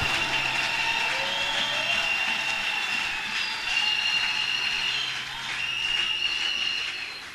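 A church congregation applauding and cheering during a sermon, a dense and steady wash of clapping that keeps going loud and continuous for the whole stretch, with voices crying out inside it.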